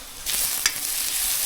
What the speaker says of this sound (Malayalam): ഇനി ഇത് നല്ല കറുപ്പാകുന്നത് വരെ ചിക്കി കൊടുക്കാം